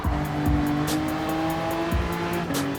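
A race car in Gran Turismo 7 at Autopolis roars through a turn, the engine note holding high and steady, dipping briefly, then climbing again as throttle returns near the apex, with faint tire squeal.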